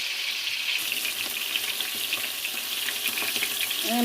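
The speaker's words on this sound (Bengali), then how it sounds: "মাছটা এক পিঠ হচ্ছে ভাজা হয়ে গিয়েছে" Fish frying in hot oil in a home kitchen, a steady broadband sizzle running throughout at moderate loudness, with faint scraping touches and no talk.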